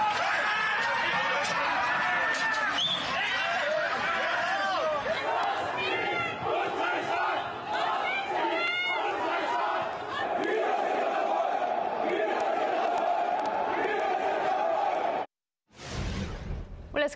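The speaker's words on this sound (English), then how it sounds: "Protesters hurled bottles at police who tried to disperse the crowd." Crowd of anti-migrant protesters clashing with police in Chemnitz, Germany: loud overlapping shouts and chanting voices throughout, with bursts of yelling, a brief cut to silence near the end, then more crowd noise.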